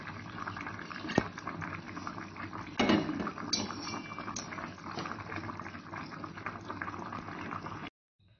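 Black chicken curry boils in a pot, a dense continuous bubbling and simmering that holds steady throughout, with a faint clink of cookware near the middle before it cuts off.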